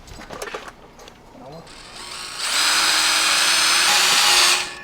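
Power drill fitted with a wood bit bores a mounting hole for a winch, a steady high whir rising after a couple of seconds and running loud before stopping, with people talking over the start.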